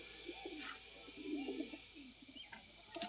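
Newly paired Australian cross pigeons coo softly in a low, rolling murmur, repeated bursts close by over a faint background hiss.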